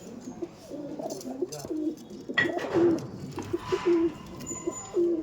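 Pigeons in an Andhra pigeon loft coo in repeated low, soft phrases close by, interspersed with brief rustles and flutters, with no voices.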